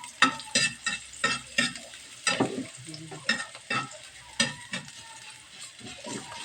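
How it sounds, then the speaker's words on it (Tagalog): Garlic sizzling and frying in a pan for a bitter melon dish, with a steady crackle under repeated rhythmic scraping and stirring strokes of a utensil, close and moderately loud. "So, lagay na natin itong bawang."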